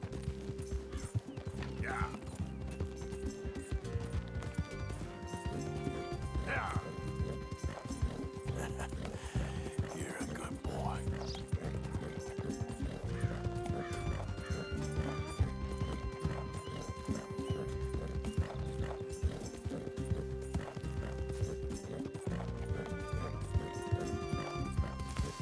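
Continuous rhythmic hoofbeats of a galloping horse in Red Dead Redemption 2, with occasional whinnies and snorts over a steady bed of game music and ambience, sustained throughout.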